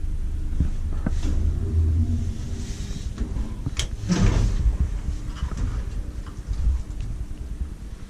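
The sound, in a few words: Kone traction elevator doors operating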